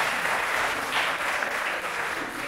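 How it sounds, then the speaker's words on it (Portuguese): Audience at a stand-up comedy show applauding, a steady wash of clapping that fills the whole moment without any talk over it. "Salve de palmas pro Antônio aí, Zé."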